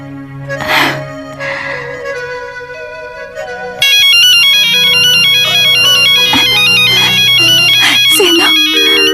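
A phone ringtone plays loud and alone, a melodic electronic tune that gets brighter and busier partway through and keeps repeating without any talk.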